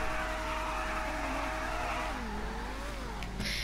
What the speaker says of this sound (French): je fais du drift